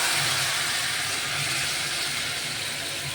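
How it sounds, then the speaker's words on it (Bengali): Curry poured into a hot frying pan, a steady broad sizzling hiss that stays loud and even throughout with no pauses. "এই যে রেখে রাখা তরকারিটাকে ঢেলে দেবো"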